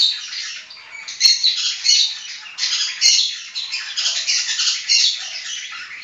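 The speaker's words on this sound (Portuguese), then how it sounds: "ignore o barulho dos passarinhos" Birds squawk constantly in a noisy, overlapping chatter, a steady high-pitched racket heard without any talk.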